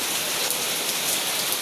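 Heavy rain pours down steadily, a dense, continuous hiss of drops drumming on surfaces close by, with no voices over it.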